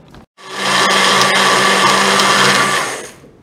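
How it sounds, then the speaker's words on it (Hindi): A kitchen blender whirs loudly for about three seconds, mixing leftover ice cream, banana and milk into a smoothie, starting abruptly after a brief pause and then spinning down. "और एक बार इसे हम मिक्सी में चला लेंगे।"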